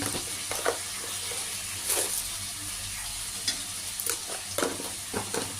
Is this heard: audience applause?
no